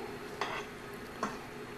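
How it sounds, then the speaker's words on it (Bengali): A soft, steady sizzle of peanuts frying in oil in a pan, with two brief stirring scrapes in the pan. "চিনে বাদামগুলো ভেজে নেব।"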